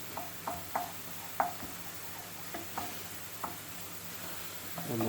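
Homemade village-style tomato paste sautés in a pan for a cheesy menemen, with a soft continuous sizzle broken by about eight sharp spoon clicks and scrapes at uneven intervals, close up and without talk.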